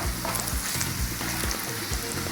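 Onions turning golden brown in hot oil with tempering spices added for daal mash: a loud, steady close sizzle and crackle, with faint spoon scrapes in the pan.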